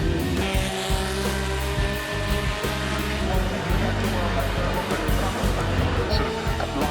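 Race cars running laps on a drying circuit, a steady loud engine roar with rising and falling revs and occasional tire noise throughout.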